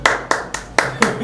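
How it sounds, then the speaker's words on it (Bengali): Six sharp, evenly spaced claps, close and fairly loud, greet the consolation prize winner of a 5 kg sweet-eating competition; the clapping is steady and unhurried rather than a full burst of applause. "তো সবাই ওর জন্য একটা করতালি স্লোলি"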